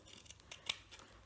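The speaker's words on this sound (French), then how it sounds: "pour passer après les ciseaux à l'intérieur, pour que ce soit plus simple" Scissors snipping through fabric while cutting out a hand towel, a few quick soft metallic cuts in a brief, quiet run.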